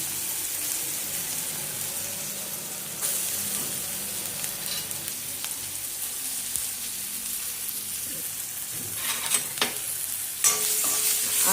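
Mustard seeds, turmeric and curry leaves roasting in an oil-filled pan on a lowered flame, a steady close sizzle with occasional stirring scrapes and crackles.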